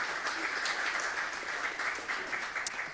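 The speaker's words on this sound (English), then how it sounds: "a round of applause for everyone" Audience applause closing a panel session at a policy conference, an even wash of clapping from a seated crowd lasting a few seconds, fairly close and steady with no voices.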